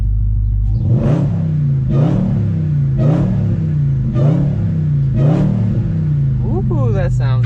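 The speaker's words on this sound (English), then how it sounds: "let's hear some in-cabin revs" A Dodge Challenger Hellcat with a Zoomer catback exhaust, heard from inside the cabin in track mode, gives five loud, evenly spaced rev blips over a low rumbling idle, with a brief voice reacting at the end.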